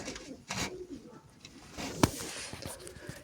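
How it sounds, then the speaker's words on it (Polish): Domestic pigeons cooing softly beneath an aviary, low repeated coos with a sharp brief sound near the middle. "Gołąbki sobie siedzą pod wojlerą."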